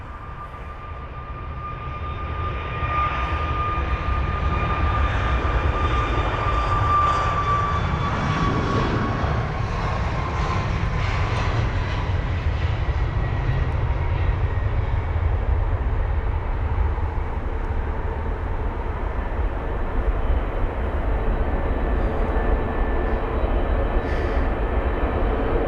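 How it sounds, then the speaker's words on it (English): Boeing 737 MAX 9 jet taking off at London Heathrow, a loud, sustained engine roar with a whining tone that holds steady across the whole stretch before slowly easing as the aircraft climbs away. "That's a 737 MAX 9 for you. Obviously rotating now, gear should be up."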